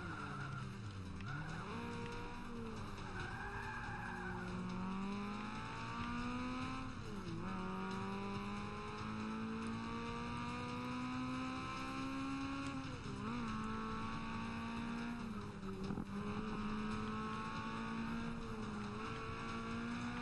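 A race car in Forza Motorsport 5 drives steadily: a continuous engine whine rises and falls through gear changes, with the pitch climbing and dropping several times, mixed with tire skidding, heard at moderate level with no talk.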